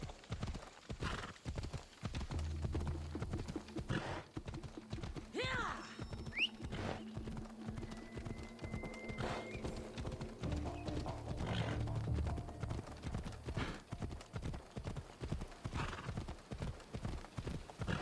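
Horse hooves clip-clop in a steady rhythmic gait while riding across terrain in Assassin's Creed Odyssey, close and continuous, with a brief whinny partway through and a voice speaking lightly over it.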